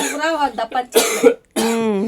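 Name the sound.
coughing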